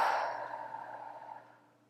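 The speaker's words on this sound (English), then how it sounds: "Exhale through the mouth," A single soft exhale through the mouth, close and quiet, trails off gradually into silence over about two seconds.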